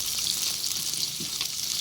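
Onions and green chillies sauté in a pan for chicken biryani, giving a dense, steady sizzle with small crackles close by and no voices.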